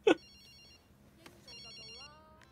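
A mobile phone ringtone in the video game Sleeping Dogs, a bright electronic melody with repeated chiming notes after a brief loud thump, fairly clear over a quiet background.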